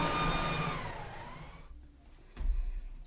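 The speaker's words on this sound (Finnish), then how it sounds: "Sisään astuu karhu, mukanaan pölynimuri." A vacuum cleaner whines loudly, its motor pitch sliding down as it winds off, then a brief thump and renewed rumble near the end.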